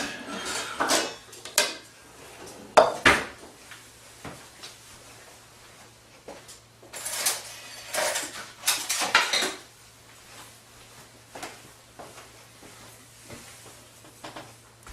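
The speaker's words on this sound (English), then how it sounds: "A nice thin spoon like this is excellent for just scooping the seeds and the shreds inside." A thin metal spoon scrapes seeds and stringy pulp from the inside of a pumpkin for a Greek pumpkin strudel, making bursts of close scraping and clattering with pauses between, and nobody speaks.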